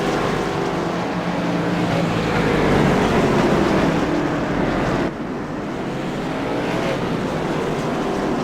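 Late model stock race cars in a racing video game at Lanier National Speedway drone steadily as a 30-car field rolls on track, a dense engine roar that drops slightly partway through, with no talking.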